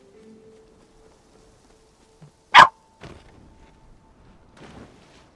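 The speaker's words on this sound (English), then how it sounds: "you just keep barking" In the video game Palia, a dog lets out a single loud, sharp bark that stands out against near silence, followed by a few faint, soft sounds.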